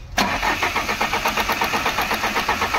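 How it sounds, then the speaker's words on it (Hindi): The starter motor of a Skoda car with a starting problem cranks in a fast, rhythmic churn after a sharp onset, the diesel engine turning over loudly and close without catching. "स्कोडा आई है और इसमें स्टार्टिंग की प्रॉब्लम है, छोटू सेल्फ मार"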